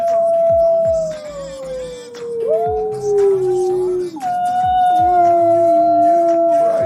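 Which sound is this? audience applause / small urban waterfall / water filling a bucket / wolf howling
wolf howling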